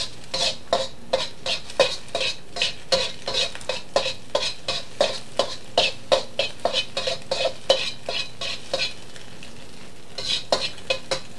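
A spatula stirs and breaks up scrambled eggs in a frying pan, giving rapid, evenly spaced scraping taps over a soft sizzle, close and steady, alone without talk.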